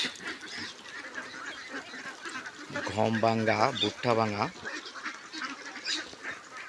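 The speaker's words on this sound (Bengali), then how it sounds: "এই হাঁসগুলোর বয়স দুই মাস আর আমার হাঁসগুলোকে খাবার দিচ্ছি" Two-month-old ducks at a farm quack loudly while being fed, two close nasal bursts in the middle, with people talking nearby throughout.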